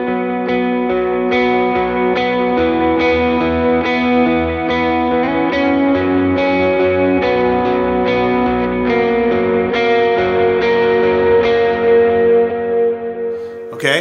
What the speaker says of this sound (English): So a big reverb, dual delay, like stage one drive.